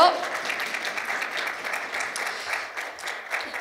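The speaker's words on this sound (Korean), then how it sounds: "박수로 환영해 주시죠" Steady applause from a crowd at a Korean TV drama press conference fills the clip, sustained clapping at an even level throughout.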